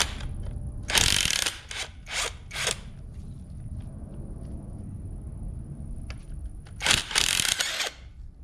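A ratchet wrench loosens bolts on a vehicle differential, giving a few quick clicking bursts near the start and another run toward the end, close and fairly loud, with no talking.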